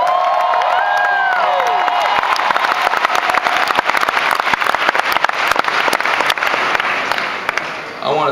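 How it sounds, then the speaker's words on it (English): An audience at a large rally applauds and cheers, dense clapping with whoops and shouts that continue steadily for the whole stretch and thin out slightly at the end. "Give them a round of applause."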